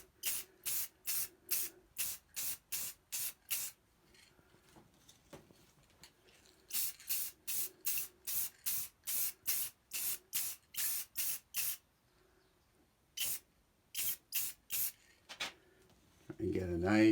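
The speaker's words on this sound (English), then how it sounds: "And get a nice, even, light spray." Short, sharp hissing bursts of a spray can applying light coats to Loadstar II model parts, fired in quick rhythmic runs of taps with brief pauses between groups, close and crisp, and a voice briefly at the end.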